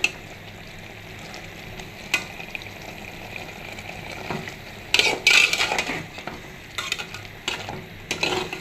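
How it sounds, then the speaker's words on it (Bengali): Mustard paste being sautéed in a curry gravy for mustard hilsa, heard as a low simmering sizzle with intermittent scraping and stirring clatter from a spoon against the pan, close by with no talking. "সর্ষে বাটা দিলাম একটু, একটু কষি।"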